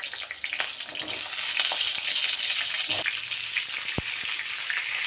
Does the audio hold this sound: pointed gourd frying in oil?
yes